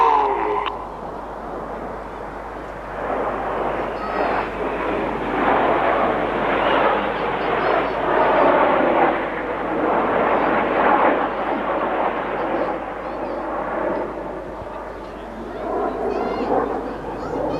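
Red Arrows display jets fly the shuttle roll over Bournemouth, a loud, sustained roar of engines that swells and fades as the formation passes, with brief talk at the start.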